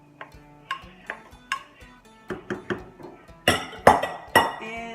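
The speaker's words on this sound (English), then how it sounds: "I'm just going to mix it all up right now." A spoon stirs vegetables in a pot for lentil soup, giving a run of close metallic clinks and knocks against the pot that grow louder and busier toward the end, with no talking.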